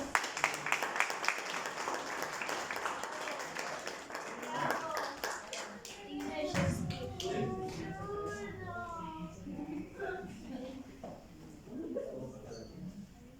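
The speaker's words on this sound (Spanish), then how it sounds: "Den un fuerte aplauso a los niños." A church congregation claps loudly for the children during a worship service, the applause dense at first and thinning out, while voices and cheerful calls rise through the second half.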